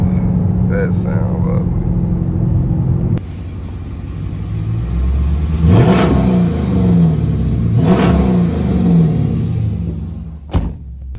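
A loud straight-piped Hemi V8 in an all-wheel-drive Dodge Charger rumbles at idle then revs up sharply twice, close by, with a brief clunk near the end.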